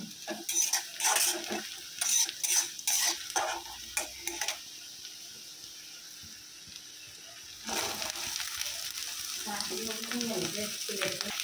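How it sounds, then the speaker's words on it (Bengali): Sliced potatoes, onion and green chili fry in a little oil, a soft sizzle under repeated stirring and clinks of a utensil against the pan, quieter for a few seconds midway, then clattering and sizzling again. "কাটা আলু, তারপর পেঁয়াজ, কাঁচামরিচ হালকা তেলে ভেজে"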